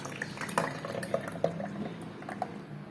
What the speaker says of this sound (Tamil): இப்போ இந்த பாலை நம்ம மிக்ஸி ஜாரில் சேர்த்துக்கலாம்.